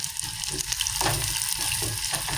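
Curry leaves sizzle and crackle in hot oil, a steady close-up frying hiss with small spattering pops throughout, no voices.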